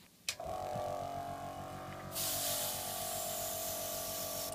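Airbrush spraying gunmetal and black paint onto a model Millennium Falcon cockpit, a steady close hiss of air that starts after a click and grows louder and brighter partway through.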